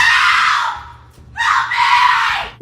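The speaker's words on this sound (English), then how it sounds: "I woke up to Samantha screaming at the top of her lungs" A woman screams at the top of her lungs at night in a deserted forest, two long, piercing, very loud cries close by, broken by a brief gap.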